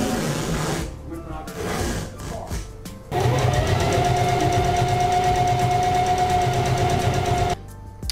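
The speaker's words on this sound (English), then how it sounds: "we're just gonna hop these on the sewing machine and then zip them shut" A sewing machine stitches fursuit foot paws in a steady, fast mechanical whir, close and loud, running for several seconds after some shuffling and handling noises.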